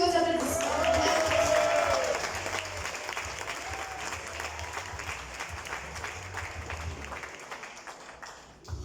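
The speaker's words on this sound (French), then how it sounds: "Sur vos applaudissements." An audience claps at a certificate ceremony in Mauritius, a dense burst of applause that starts loud and thins gradually over several seconds without fully stopping.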